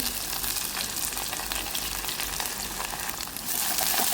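Dried red chillies and curry leaves crackling in hot oil, a loud continuous sizzle with dense spitting pops throughout.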